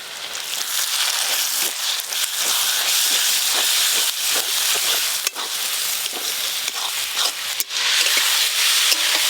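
Ground spice pastes of cumin, coriander, dried red chili, cashew and melon seed, with turmeric powder, sizzle in hot oil in a pan, a loud, continuous hiss and crackle with small pops and stirring scrapes.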